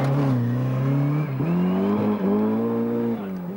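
A rally car spins and slides backwards into a slip road during a stage. The engine drones loud and close with shifting revs and a steady whir, with no talking over it.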